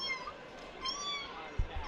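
A voice actor imitates a cartoon cat's meow, a short wavering high-pitched mewing cry that stands out clearly against a quiet background, ending with a brief low thump.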